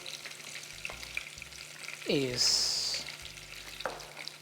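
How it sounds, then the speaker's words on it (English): Onions sizzle and crackle in hot oil, steady and close, with a brief stirring scrape and a few quiet words spoken. "frying with my onion"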